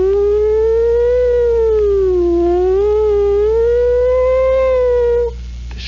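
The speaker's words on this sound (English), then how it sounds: "sound of a distant approaching and receding siren" A single police car siren wails, rising and falling in long slow sweeps, loud and steady, then cuts off abruptly near the end.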